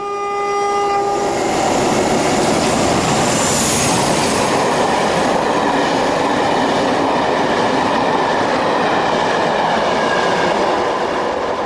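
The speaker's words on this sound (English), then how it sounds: "47843 Vulcan blasts off from Tamworth in April 2001." British diesel locomotive 47843 Vulcan pulling away from Tamworth: a brief horn blast opens, then a loud, sustained engine roar with rumbling wheels continues close by for the rest of the run.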